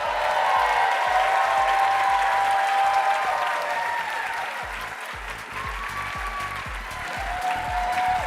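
Loud, sustained applause from an awards-ceremony audience in New Orleans, continuous dense clapping with some cheering that dips briefly midway and swells again, with no talking.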